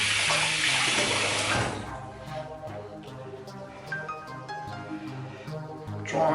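Tap water runs steadily into a sink during a wet shave, a loud broadband gush at first that eases to a softer flow and then swells again at the end, with no talking.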